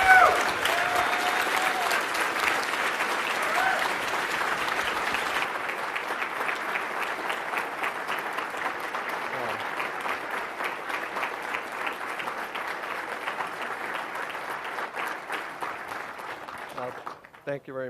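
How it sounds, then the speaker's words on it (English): A large conference audience on its feet applauds for Rich Hickey, the creator of Clojure, before his keynote: sustained dense clapping from a big crowd, steady and loud, then tapering off abruptly near the end. "I'd like to ask everybody to stand up and applaud before we start this for Rich"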